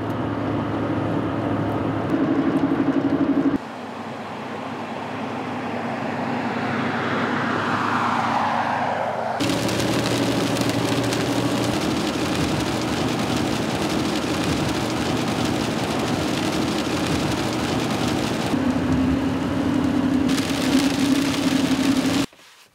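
Heavy, pouring rain drums steadily on a truck driving toward a trailhead, a loud continuous broadband wash over low engine and road rumble that swells and shifts partway through and runs to the end.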